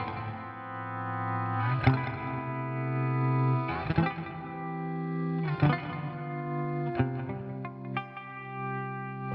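An electric guitar played through a Chase Bliss Clean compressor pedal with reverb rings out in sustained, swelling chords, each strum blooming and decaying into a smooth, shimmering wash with no voices.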